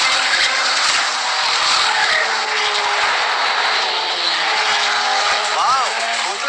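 A race car skids through a U-turn in a continuous loud hissing roar of sliding tires, with a brief rising tire chirp near the end.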